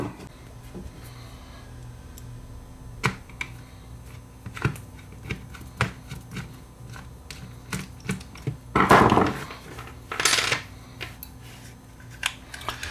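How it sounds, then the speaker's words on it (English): Abox NL209 hot glue gun being put back together after a teardown, heard as scattered light plastic clicks, taps and snaps spread throughout, with a louder burst of rustling and scraping near the end, close by with no talking. "We'll just put this thing back together now, and I can go back into my toolkit."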